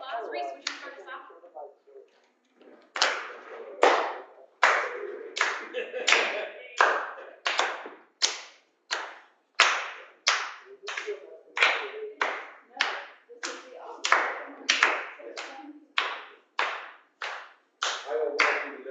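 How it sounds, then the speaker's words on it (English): Slow, separate hand claps in a green room at a Hamlet rehearsal, crisp and close, each clap distinct with brief gaps. A small group speaks at first, then fades out. "Round of applause."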